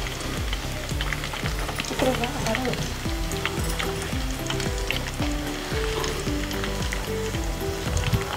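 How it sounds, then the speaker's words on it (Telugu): Chicken pakoda pieces deep fry in hot oil with a loud, continuous sizzle and bubbling, punctuated by repeated rhythmic scraping or stirring strokes. "ఇది డీప్ ఫ్రై అయ్యింది, తీసేద్దాం"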